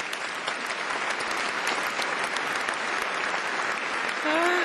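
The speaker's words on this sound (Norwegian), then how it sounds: "stor applaus til spillere." A large audience applauds the players at a Norwegian coaches-of-the-year event, a dense, loud, sustained wash of clapping hands that carries unbroken through the whole stretch, with a brief voice sounding at the very end.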